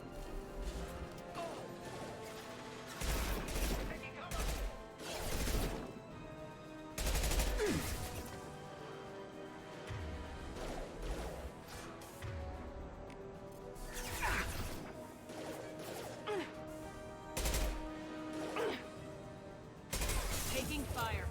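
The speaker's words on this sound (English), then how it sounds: "Taking fire." Gunfire in Mass Effect Legendary Edition rattles in repeated bursts of shots and impacts across a long, busy firefight, with crashing hits and mechanical clatter throughout.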